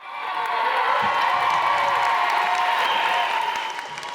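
A theatre audience bursts into thunderous applause at the close of a musical jam, dense steady clapping with some cheering, loud and sustained throughout.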